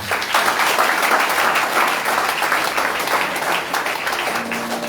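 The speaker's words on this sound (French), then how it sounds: "Un bel applaudissement encore." An evangelical church congregation in Haiti applauds warmly, steady dense clapping holding for about five seconds at strong volume, with a faint tone surfacing near the end.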